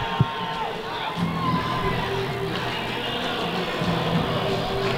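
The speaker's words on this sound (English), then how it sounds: "the crowd will be really, really into it and loud, and they have been" A crowd in the stands early in the first period of a St. Paul's Big Red versus Deerfield Big Green hockey game roars and cheers in a steady, sustained din, with shouts rising above it.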